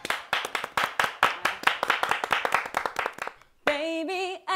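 A small group claps in a quick, rhythmic series of sharp, distinct hand claps, nearly in unison, before falling silent as a sung vocal line begins.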